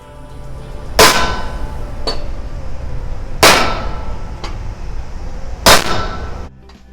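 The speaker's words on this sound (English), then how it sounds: "the machine operator hammers them into the handle section of the blinds" Hardened steel hand stamps are hammered into the handle section of a metal paddle blind in a factory, giving three loud, sharp metallic clangs about two seconds apart, each with a short ringing tail, over steady machine hum.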